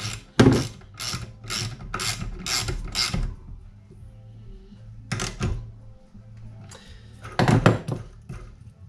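A ratchet wrench with a 13 socket tightens and then undoes a bolt during a car build, giving several bursts of fast, close metallic clicking separated by short pauses.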